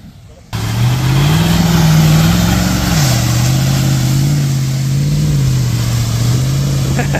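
A Lexus stuck in Florida mud revs hard, its loud engine note rising, dipping and holding in sustained strain after a sudden start, with voices around it.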